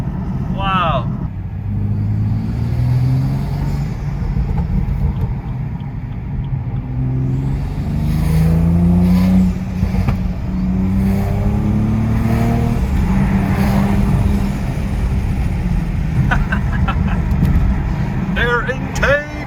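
A BMW 435i with a newly installed air intake gives a deep, steady engine rumble with swells of revving, heard close up beneath continuous talking.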